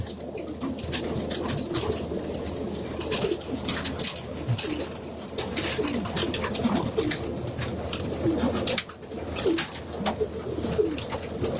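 Pigeons coo continuously in a loft, many overlapping low rolling calls close by, with scattered wing flutters and clatter throughout.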